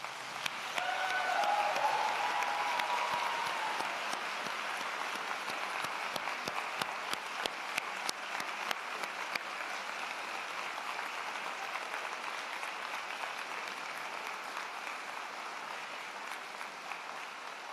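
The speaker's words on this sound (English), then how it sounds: "Graduates, a round of applause, please." A large convocation audience applauding graduates, with sustained dense clapping that is strongest at the start and stays steady and even for the whole stretch, with no talk.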